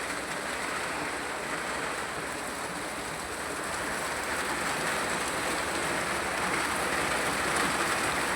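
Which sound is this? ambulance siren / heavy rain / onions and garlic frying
heavy rain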